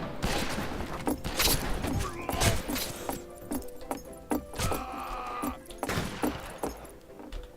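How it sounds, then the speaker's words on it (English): Rifle fire in the Western shooter game Fistful of Frags during a deathmatch, with rapid overlapping gunshots and clattering cracks repeating in bursts throughout, mixed with other game noise and some distant chatter. "Somebody has a sniper rifle"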